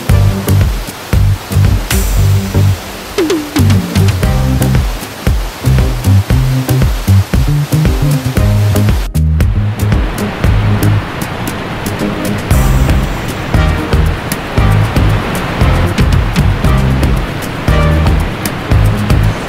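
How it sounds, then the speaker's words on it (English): Niagara River whitewater rapids and falls at Niagara Falls State Park, a loud, unbroken roar of rushing water that fills the scene, close and powerful, with a calm voice narrating over it. "The roar of the river provides a deceptive calmness, the perfect ambience for your walk among the many platforms"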